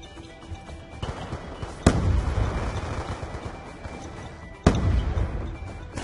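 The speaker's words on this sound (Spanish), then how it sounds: "¡Lanzo granada!" A grenade blast in Call of Duty: Black Ops II, a sharp broadband thump followed by a second loud detonation a few seconds later over a steady background of game gunfire and rumble.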